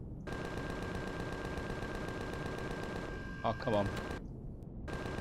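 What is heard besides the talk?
gunfire in the video game Empyrion Galactic Survival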